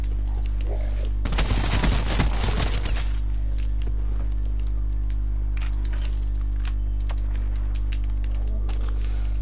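In the video game Blackout, a gun fires a rapid burst at zombies that lasts about a second and a half. Afterwards only a low, steady background hum remains.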